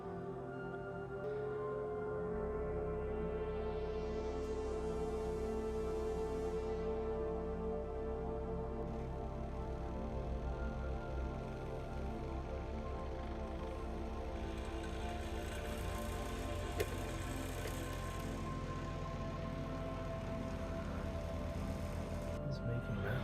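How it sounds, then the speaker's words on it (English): A new 3D printer runs a mechanical resonance measurement for vibration compensation, giving a steady, fairly loud mechanical buzz with rising sweeping tones near the start and continuous motor hum throughout. "measuring the mechanical resonance modal of the printer for vibration compensation, which reduces artifacts caused by acceleration and allows for much faster print speed"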